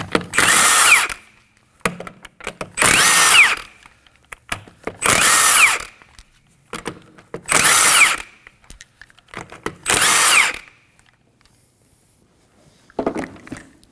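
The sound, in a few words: power tool removing Kia Optima lug nuts with 21mm socket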